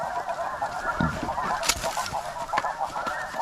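Snow geese honking overhead during a conservation hunt, a dense flock giving continuous layered honks and cackles at moderate distance, with a few louder nearer calls and some rustling nearby.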